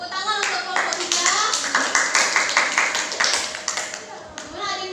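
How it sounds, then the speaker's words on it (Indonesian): A classroom of students claps for group 3, a burst of quick, uneven hand claps rising and falling over several seconds, with children's voices chattering underneath. "Tepuk tangan untuk kelompok 3"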